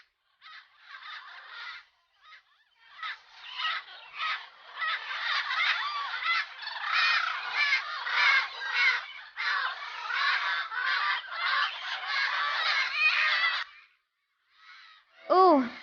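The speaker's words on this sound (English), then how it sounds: "The parrots are fighting." Parrots squawking and fighting in a tree, a dense run of harsh, overlapping squawks and screeches that fills most of the stretch, fairly close and loud, with a short pause before a final burst.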